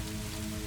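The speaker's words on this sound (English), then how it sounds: "The rain is your companion tonight" Steady, soft rain falls on a Moroccan riad at night, a dense even patter with no pauses, heard alone and fairly quiet.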